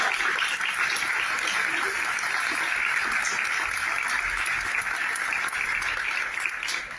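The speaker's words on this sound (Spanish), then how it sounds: "Un aplauso para ellas." Sustained audience applause at a book presentation in Culiacán, a dense, steady wash of many hands clapping that fills the whole stretch before tapering slightly at the end.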